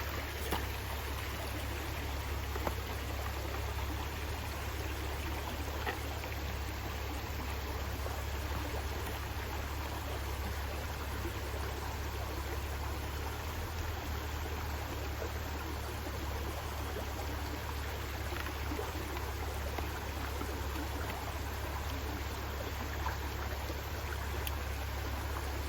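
Steady running water of a creek near a garden, a continuous broadband rush with a low hum underneath, constant and unbroken throughout.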